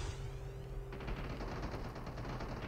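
Rapid automatic gunfire from the Call of Duty Mobile battle royale mode, a dense continuous burst of shots that picks up sharply partway through and keeps rattling on to the end, fairly loud with no talk.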